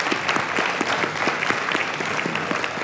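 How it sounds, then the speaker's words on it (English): Audience applause for three panelists at the close of a dinner presentation, a steady dense clapping with sharper individual claps poking through, moderately near and continuous. "And a round of applause,"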